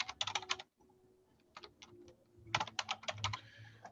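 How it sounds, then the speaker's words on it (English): Typing on a computer keyboard, close and clear, quick bursts of keystrokes separated by short pauses, with no talk. "So I'm going to type in my information."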